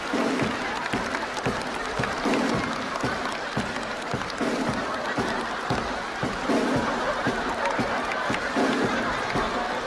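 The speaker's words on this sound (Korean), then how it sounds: "박수로 환영해주십니다." A comedy-show audience gives applause to welcome a performer, continuous crowd clapping mixed with scattered chuckles and laughter that holds at a fairly even level from start to finish.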